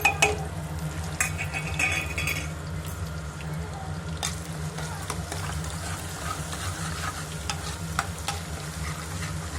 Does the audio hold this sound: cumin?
yes